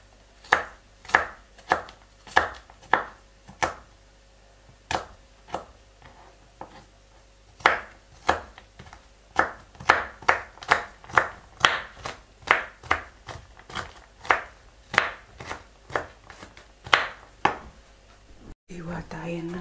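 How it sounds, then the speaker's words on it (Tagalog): A knife chops celery on a board in uneven bursts of sharp, close knocks, some quick runs and some pauses, continuing for most of the stretch, with faint speech nearby. "Hiwain lang natin muna ganito. And then, i-chop po natin."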